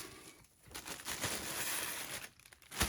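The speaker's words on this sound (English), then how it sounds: "if you recycle plastic bags in your area, recycle these plastic bags" Plastic packaging bags crinkle and rustle close up while new Rattlesnake instrument cables are unwrapped, a continuous crackling texture that briefly eases and then resumes.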